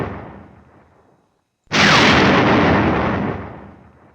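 Artillery fire in the Panzer Campaigns Budapest 45 wartime strategy game, with flak 88 guns under fire in a town: a fading rumble, a brief silence, then one sudden loud blast that roars and slowly decays.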